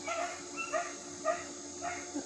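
Puppies outside bark and whimper in a few short clusters of yips and whines, fairly faint and muffled as though heard through a wall, over a steady background hum.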